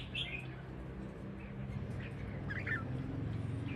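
A caged red-whiskered bulbul gives a few short, bright chirping calls spaced across a few seconds, fairly close, over a steady low hum and background noise.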